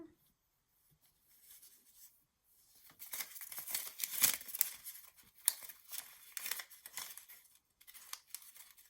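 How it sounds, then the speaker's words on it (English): Scissors snipping and fussy cutting paper for index card junk journaling, a run of crisp, close cuts with rustling paper between them after a quiet start. "So I just fussy cut it."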